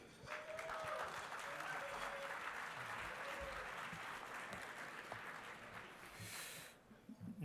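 Sustained audience applause at a freedom-movement conference, greeting a board member introduced onstage as he comes to speak; dense steady clapping holds for about six seconds, then thins and fades near the end.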